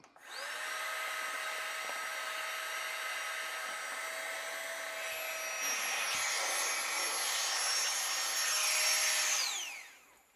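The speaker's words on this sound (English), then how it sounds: "Our pump is on." A Giga Pump 2.0 electric air pump inflating a sleeping pad: a steady, loud motor whine holds for about nine seconds, its pitch shifting slightly as the pad fills, then cuts off.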